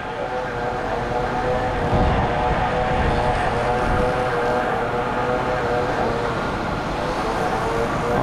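Ford 6.4 Powerstroke diesel truck idling along under its own power while being recovered, a steady low rumble with drone throughout, continuous and fairly loud outdoors, no voices.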